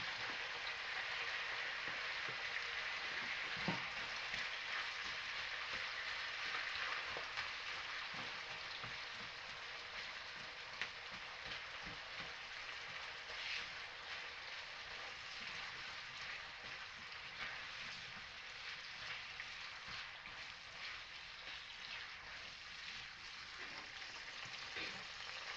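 Pork belly and onion fry in a pan with a dense, continuous sizzle and crackle that holds steady at close range for nearly half a minute, along with faint occasional clicks, with no speech.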